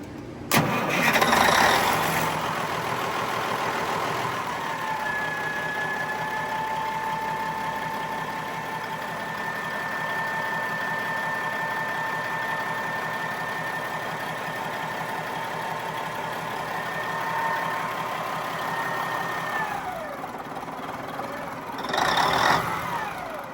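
The starboard engine of a sailboat, cranked from the engine room, catches with a loud rough burst, then settles into a steady droning idle with a constant whine for about eighteen seconds before cutting off and briefly rumbling again.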